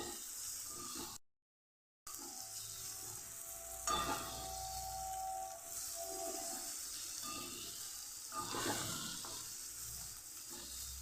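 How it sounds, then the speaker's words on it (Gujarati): Spice-coated okra sautés in oil in a pan for Kathiyawadi bhinda shaak, giving a continuous bright, close sizzle with occasional stirring bursts and a short silent gap near the start. "મસાલાથી કોટિંગ કરેલા ભીંડાને સાતળી લેવાના છે એકદમ મસ્ત એવા"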